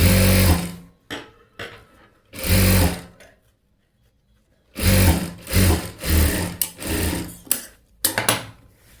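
A sewing machine stitches along the final edge of a thread-work blouse sleeve, whirring loudly up close in several stop-start bursts of varying length separated by silent pauses, with no talking.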